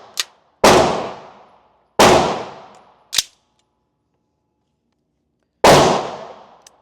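Shots from a Daniel Defense MK18 rifle at an outdoor range at 20 yards: a few loud, close cracks at uneven intervals, each followed by a long ringing decay, with fainter pops between them.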